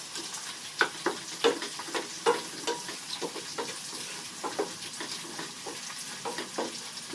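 Tomatoes cook down in a pan, sizzling softly while a utensil stirs them in a series of irregular scraping strokes, close and fairly quiet, with no voices.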